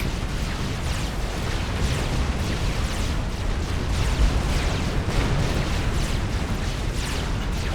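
Tactical missile strike in a Supreme Commander: Forged Alliance 4v4 battle, heavy rumbling explosions layered into a steady, dense roar of artillery and blasts with no clear pauses.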